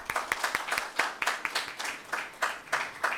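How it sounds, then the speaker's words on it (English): A small audience at a guest lecture claps in a loose, steady patter of separate hand strikes, fairly close and moderately loud, with no talking over it. "let us clap for yourself"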